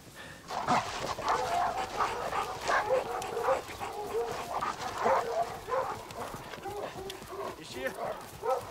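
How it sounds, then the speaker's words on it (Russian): Guard dogs bark and yip excitedly in a tense detective drama scene, an overlapping mix of barks and whimpers at moderate distance, with voices and shouting underneath. "Сёма, там охранники с собаками."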